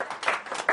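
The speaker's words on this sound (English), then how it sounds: "Nay, I was not looking for applause" Brief scattered audience applause at a spiritual talk, a few claps rising and fading within a second, fairly soft and distant.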